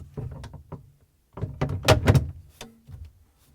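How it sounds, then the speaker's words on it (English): Plastic crisper drawers slide into an LG/Kenmore refrigerator in a series of scraping glides and hollow thunks. A cluster of louder knocks comes midway, close up, with no speech. "Then we can slide in the lower drawer and then both upper drawers."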